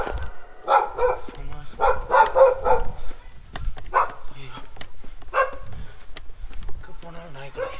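Dogs barking along a road on a ride from Shillong to Cherrapunji in Meghalaya, a cluster of loud close barks and yips at first, then scattered barks under ongoing talk.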